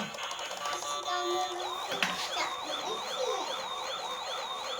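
A small electronic siren on a light-up toy ambulance warbles steadily, a thin looping wail, fairly quiet with some toy-car clatter around it.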